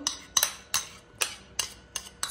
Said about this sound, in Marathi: सर्वप्रथम हे तूप आपण कढईत टाकून घेऊ।